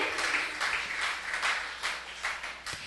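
A church congregation claps together in a steady, dense patter of applause that swells and eases without any voices.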